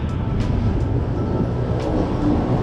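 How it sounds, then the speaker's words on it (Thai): A steady, broad rumble of an elevated BTS Skytrain passing nearby in Bangkok, constant and unbroken, with faint high clicks on top. "โอ้รถไฟฟ้าไปแล้ว"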